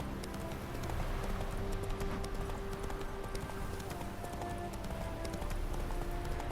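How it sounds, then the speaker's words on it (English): Hoofbeats of a horse galloping in The Witcher 3, a steady rapid clip-clop held close and even throughout, with faint game ambience and a low steady hum behind it. "Run, Roach"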